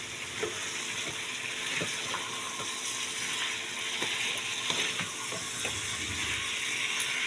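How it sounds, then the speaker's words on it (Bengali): New potatoes and peas stir-fried with spices in a pan, a steady sizzle and hiss with scattered clinks and scrapes of a spoon stirring, close and continuous without speech. "দিয়ে এবার আমি খুব করে কষিয়ে নেব ভালো করে এটা মিশিয়ে"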